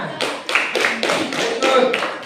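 A classroom of students clapping hands together in unison, several sharp rhythmic bursts of claps in quick succession, loud and close.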